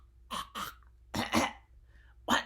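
A voice imitates coughing during a reading of The Lorax, giving several short, close, breathy cough bursts in an uneven rhythm.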